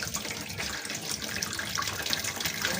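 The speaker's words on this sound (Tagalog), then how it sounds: "Kailangan na natin hugasan ng ating mga ingredients." Tap water runs steadily into a sink as ingredients such as kinchai and onion leaves are washed for cooking, a close, continuous splashing rush with no one talking.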